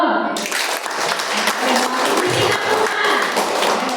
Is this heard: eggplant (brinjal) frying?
no